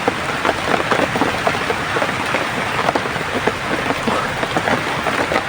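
Heavy, steady rain falls close by, a dense continuous hiss of drops hitting surfaces with scattered sharper patters, loud and unbroken, with no voices.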